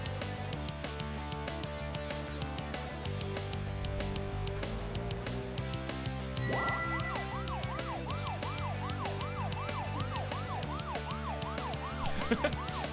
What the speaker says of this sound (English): Use the siren to go faster.